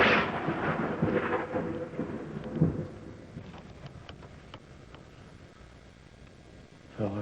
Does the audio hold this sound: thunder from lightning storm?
yes